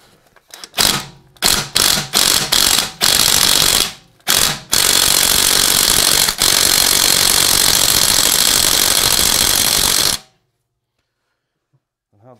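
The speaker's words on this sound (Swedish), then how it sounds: "Nu lossnar vi krängningshämmarna." Impact wrench or power ratchet loosening the anti-roll bar fittings on a Volvo S60: several short loud stuttering bursts, then one long continuous rattling run that stops abruptly into silence.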